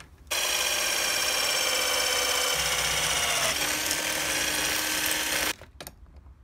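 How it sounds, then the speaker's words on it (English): A steady, loud high-pitched drill whine runs for about five seconds as a wood bit drills through aluminum, shifting pitch midway as it bites, then cuts off abruptly. "you can drill through aluminum"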